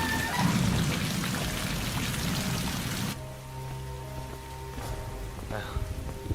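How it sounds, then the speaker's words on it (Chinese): Rain falls in a steady, dense patter for about three seconds, then the sound drops to a much quieter background with faint soft murmuring. "居然当真下雨了"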